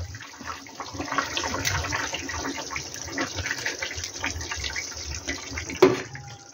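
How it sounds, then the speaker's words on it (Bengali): Tangra fish curry boiling in a pan, a close, continuous bubbling and simmering with small pops and one sharper clink near the end, with no talk. "মাছটা টকবক করে ফুটে গেছে।"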